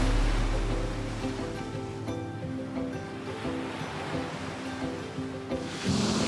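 Waves rush and crash against the shore at Weihai, China in a steady roar, with wind buffeting the microphone and a louder surge toward the end.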